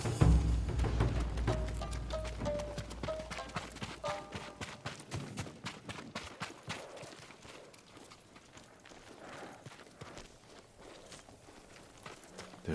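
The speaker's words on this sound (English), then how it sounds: "Let's get to the horses." Samurai horses from the video game Ghost of Tsushima trot with a rapid, steady patter of hooves that continues throughout, opening over a low rumble and settling into a softer, even rhythm.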